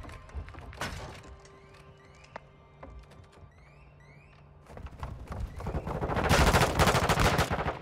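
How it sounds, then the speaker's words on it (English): Gunfire in Modern Warfare 2 multiplayer: scattered sharp shots in the first seconds, then a dense, loud burst of rapid automatic fire building toward the end, with faint game chatter and effects between. "Dang, there's already shooting"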